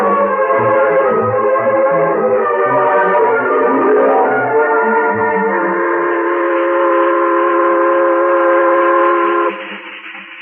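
Steam train whistle in an old radio drama, a loud sustained multi-tone blast sounding alone over the chugging rumble of the locomotive, the whistle pitch bending and then holding steady before fading at the end.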